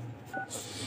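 Mobile phone keypad dialing tones while a USSD code is entered; a quick pair of clear electronic beeps sounds close and alone over a faint background hiss.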